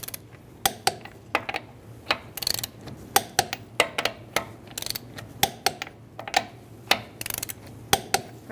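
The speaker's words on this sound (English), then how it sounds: "we can torque it to 80 foot-pounds with a 21 millimeter socket" Torque wrench tightening 21 mm lug nuts on a 2010-2013 Kia Soul wheel in a star pattern, a steady run of close, sharp ratchet clicks repeating roughly every half second, with brief pauses.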